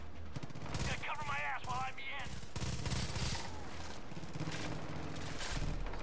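Bursts of rapid gunfire in Far Cry 5, fairly quiet and distant-sounding, with scattered shots and a dense fusillade running through a tense outdoor firefight as a voice speaks over it.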